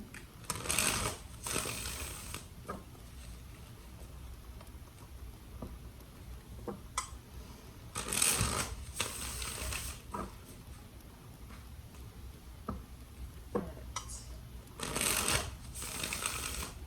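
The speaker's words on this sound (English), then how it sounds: "Three more shuffles for Cancer and their person." Stiff tarot cards are riffled and shuffled in several brisk bursts, with quieter shuffling and soft taps between them, close by.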